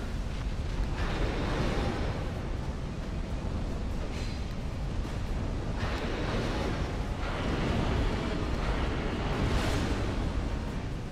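Roaring fiery blast of the Smelter Demon's area-of-effect fire attack in the video game Dark Souls 2, a sustained loud whooshing rumble with repeated surging bursts.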